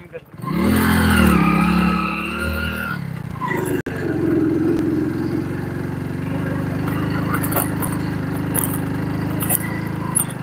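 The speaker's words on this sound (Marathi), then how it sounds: "गाडी लोड होते. गिअर कमी करायचं का?" A loaded car's engine strains and drones at low revs, then drops pitch after a gear change and settles into a steady rumble, with people talking inside the vehicle.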